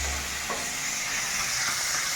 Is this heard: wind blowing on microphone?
no